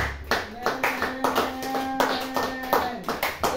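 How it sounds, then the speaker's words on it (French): A church congregation claps rhythmically in praise of Jesus, a steady run of loud hand claps, with a sustained musical tone underneath and voices among them. "Mais acclamez Jésus vraiment pour ça."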